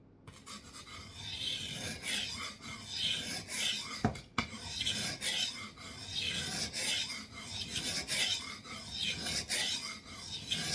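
A Schrade 7-inch knife is sharpened with repeated rhythmic rasping strokes, roughly one per second, close and steady with a sharp knock partway through and no talking.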